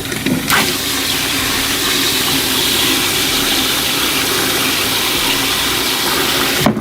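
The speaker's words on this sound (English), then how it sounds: "every time I refill this, I nail that bag aggressively with the sprayer." Forceful water spray blasting into a bag inside a backyard tank, a loud continuous hissing rush that runs nearly unbroken from start to finish.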